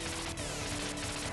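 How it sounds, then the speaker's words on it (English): Rapid gunfire from the Teenage Mutant Ninja Turtles arcade game in the Cowabunga Collection crackles through busy electronic game music, with a few sharp shots standing out briefly. "if I can get over these gunshots"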